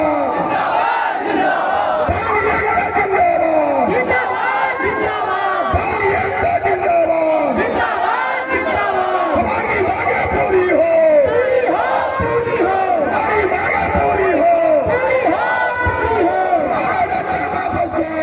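A large crowd at a reservation demand rally on a protest ground in Darbhanga chants and shouts in loud, overlapping waves of voices, with rhythmic collective calls continuing throughout.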